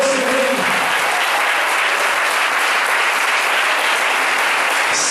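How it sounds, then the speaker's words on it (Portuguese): A church congregation at a Portuguese-language sermon breaks into loud, sustained applause, a dense wash of clapping from many hands that holds steady for several seconds. "Aplauda esse Deus tremendo"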